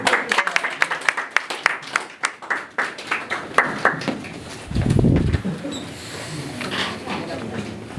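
A small group at a game event claps in a quick, steady rhythm for several seconds, then the clapping fades as voices and room noise take over.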